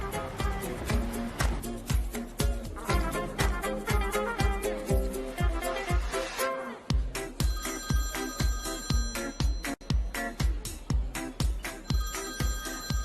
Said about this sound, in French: Je dois répondre à cet appel.